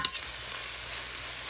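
Red onion sautéing in Flora plant butter over medium heat gives a steady, even sizzle that holds close and constant from start to finish, with a faint clink at the very beginning and end.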